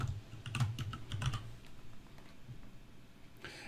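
Keys tapped on a computer keyboard while entering a field name into a spreadsheet, a short burst of light clicks up front, then scattered quieter taps over a low background hum.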